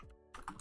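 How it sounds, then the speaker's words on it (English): A cat stepping across a computer keyboard gives a short flurry of soft key clacks, starting after a near-silent pause and ending in a few louder presses. "cat on the keyboard"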